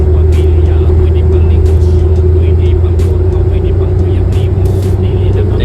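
A surplus kei car's engine drones steadily at about 1,000 RPM with the aircon on while the car climbs toward Eden, a constant low rumble filling the cabin with a few faint ticks above it.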